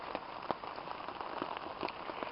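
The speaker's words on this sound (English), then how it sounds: "Kind of like if this rain would let up a little bit." Rain falling steadily at a woodland trail campsite in spring, a soft continuous patter with scattered louder drops hitting nearby surfaces, quiet and close, no talk.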